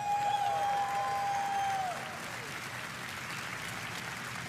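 Audience applause at the Microsoft E3 2018 press conference, a broad wash of clapping from a large crowd that starts loud with a steady tone over it, then eases to a softer, sustained patter.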